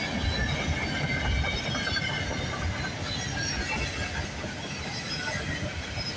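A CPKC freight train rolls past the Milton GO station in the early morning, its steady rumble and rail noise loud and continuous, with faint wheel squeal and clickety-clack over the line.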